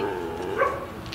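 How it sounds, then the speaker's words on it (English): A toy model dog gives a brief, faint bark amid low background noise, one short yelp near the middle. "The model dog comes out."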